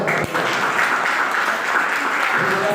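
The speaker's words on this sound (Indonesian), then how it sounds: "Tepuk tangan dulu untuk kawan kita." A classroom audience claps for a classmate during a school teaching-practice exam session, a steady wash of applause lasting a few seconds at close range with faint voices mixed in.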